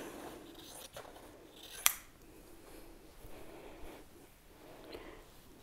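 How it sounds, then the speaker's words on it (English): Scissors cut the long warp fringes of a woven heart-pattern scarf, heard as one crisp snip against a very quiet room with faint rustling. "I can just cut, roll it forward a little bit and cut nice long fringes."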